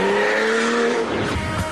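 A Porsche 911 GT2, a stripped-down turbo model, pulling away hard with a loud, close engine note rising in pitch, then breaking into a rougher, gritty roar as it speeds off.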